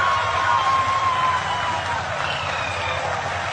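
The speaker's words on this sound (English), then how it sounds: "People are applauding." A large audience at an ISRO lunar lander event applauds steadily, a sustained, even wash of many hands clapping that fills the room without pause, with faint talk mixed in.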